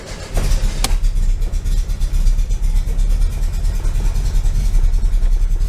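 A 1973 VW Super Beetle fitted with a Dellorto FRD 34 carburetor idles low and steady, a close, even rumble that holds without pause through the whole stretch.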